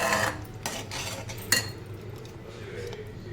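A spoon stirs a thick fresh-cashew paste curry in a pot over low heat, giving close metallic clinks and scrapes, loudest at the start, with a sharp knock midway and quieter stirring after.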